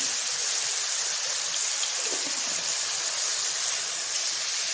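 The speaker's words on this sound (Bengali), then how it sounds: "এগুলো একটু জল বেরোচ্ছে, জলটা পুরো শুকনো হয়ে যাবে, তারপরে মাশরুম ভাজা হবে।" Mushrooms sizzle in a pan as their released water cooks off, producing a steady, loud, broadband steamy hiss that runs unbroken throughout, with no talking.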